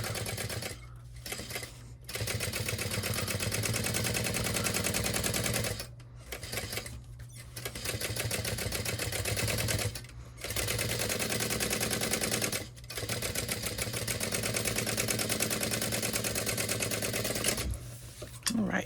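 A sewing machine runs steady basting stitches at a long stitch length around the edge of waterproof canvas fabric, whirring in sustained bursts separated by short pauses, loud and close.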